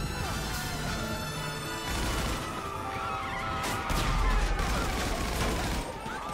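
Sweeper machine gun, a Thompson-style weapon, firing in GTA 5: rapid bursts of automatic gunfire with crashing impacts and clattering debris, loud and dense across the whole stretch.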